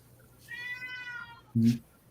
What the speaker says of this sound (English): Feed that cat.